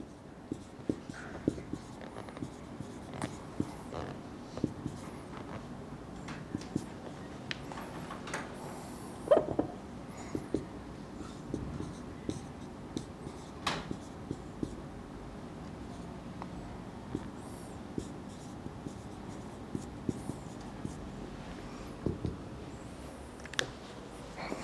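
Pen strokes scratching out a binomial probability calculation by hand, soft and faint in a quiet room, with irregular short scrapes and a few slightly louder taps.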